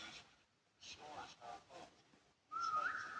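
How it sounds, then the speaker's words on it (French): A whistle in the Roblox game SCP 3008, blown to lure monsters, rises as a loud sustained tone near the end, following bursts of game noise and faint activity. "Viens, on fait que siffler."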